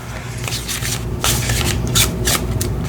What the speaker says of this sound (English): So let's go ahead and give this a really nice shuffle.